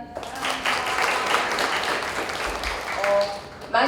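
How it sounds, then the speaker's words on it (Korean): A book concert audience applauds a host's entrance, sustained clapping from a crowd with a voice and brief tonal sounds cutting in near the end. "박수를 맞춰주세요"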